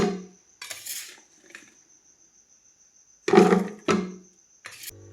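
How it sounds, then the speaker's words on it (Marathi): Raw mango pieces for a sweet pickle drop into a pickle jar with salt at its base, making a few short clattering bursts separated by quiet gaps, close by with no talking. "ह्या कैरीच्या फोडी आहेत ना ह्या भरणीमध्ये आता भरून घेते"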